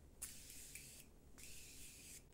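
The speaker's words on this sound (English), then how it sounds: "I'm gonna use my Morphe Continuous Setting Spray." A Morphe Continuous Setting Spray mists onto a face in two soft, faint sprays, each a fine hiss lasting under a second, in a quiet room with no talking.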